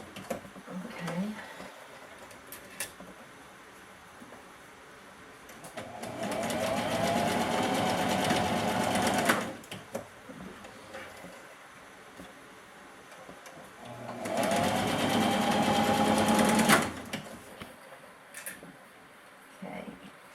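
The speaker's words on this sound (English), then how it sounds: "we're at the machine where I'm going to sew these where we just got through pinning them" An electric sewing machine runs a half-inch seam through pinned fabric in two steady whirring bursts of a few seconds each, separated by quieter pauses with light handling noise.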